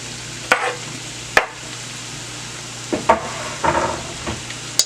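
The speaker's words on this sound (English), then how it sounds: "To my garlic, I'm going to add my onions." Onions tipped into garlic frying in a pan for a saltfish and breadfruit pie, with a soft sizzle broken by a few sharp spoon clanks and stirring knocks, close by and with no talk.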